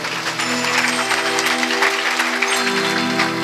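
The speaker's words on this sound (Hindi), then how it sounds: "और जोरदार भैया के लिए ताली बजाएंगे।" Audience applause at a religious storytelling gathering in a village, sustained loud clapping from a crowd with a steady tonal drone underneath, lasting throughout.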